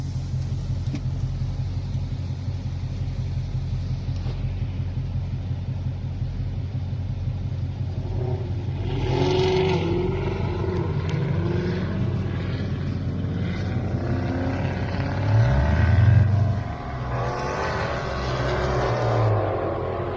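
Dodge Demon and Dodge Hellcat launching side by side in a drag race; a steady, distant engine rumble runs throughout, swelling into a louder roar midway and peaking briefly near the end.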